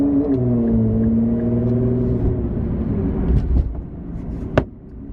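A Nissan GT-R engine hums at a steady low idle, close and continuous, with a few small knocks and a sharp click near the end.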